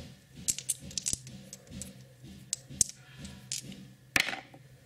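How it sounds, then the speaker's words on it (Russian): Small dice are thrown onto a table, making a string of light, close clicks and rattles, with one sharper clack near the end. "Кидаем кубики."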